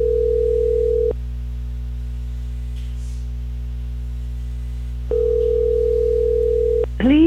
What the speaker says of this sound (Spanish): la extensión va a timbrar durante 20 segundos y se va a ir al voicemail